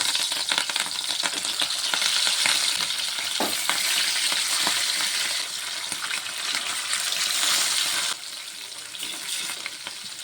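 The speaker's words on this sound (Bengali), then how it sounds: "তেলটি কিন্তু গরম হয়ে গেছে, এখন আমি মাছটি ভেজে নেব।" Rohu fish, pre-rubbed with salt and turmeric, frying in hot oil makes a dense, continuous crackling sizzle, close and fairly loud, easing slightly toward the end with no talk.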